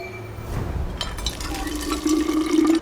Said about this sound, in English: A water pump.